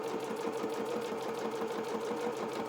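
A home sewing machine stitching a beginner's coat, a steady fast mechanical whirr with rhythmic needle clatter that runs evenly without pause, close and moderately quiet, no talking over it.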